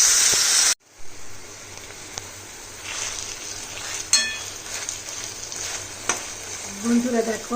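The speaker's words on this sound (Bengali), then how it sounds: "আমি শাকটা সুন্দরভাবে ছড়িয়ে দিয়েছি" Kochur loti greens frying in a pan of spiced oil with whole cumin, a steady sizzle with occasional stirring clinks and scrapes, close up with no talking.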